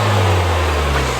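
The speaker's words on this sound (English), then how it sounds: "But the engine sounds good with that." Honda Civic Type R FK8 fitted with an AWE exhaust, its engine running steadily at close range with a strong low hum and even tone, no talking over it.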